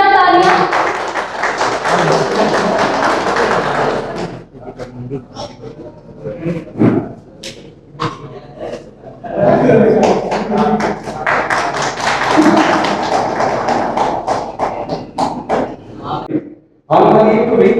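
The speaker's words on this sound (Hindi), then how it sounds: "जोरदार तालियां" Loud applause at a felicitation program honouring Corona Warriors, bursts of close, dense clapping from a gathered audience that thin out to scattered claps midway, swell again, then stop abruptly.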